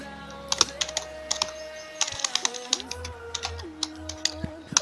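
Text being typed on a computer keyboard: irregular, close key clicks in quick runs, over a faint background hum and some tonal beeps.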